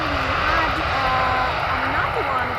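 An SAS airliner landing at Amsterdam Schiphol produces a steady engine rumble under continuous commentary, with no clear rise or fade across the short stretch.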